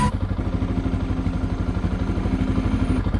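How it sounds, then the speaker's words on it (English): A Honda motorcycle engine runs at idle with a fast, even thumping pulse and mechanical clatter, close and fairly loud for the short stretch. "I'm on the Honda, I got it running. It's not a quiet bike."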